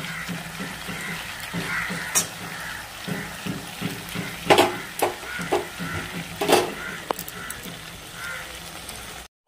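Spice paste being stirred and fried with flat beans and tomatoes in a pan, a steady sizzle with repeated scraping strokes of the spoon, close and moderately loud, no talking.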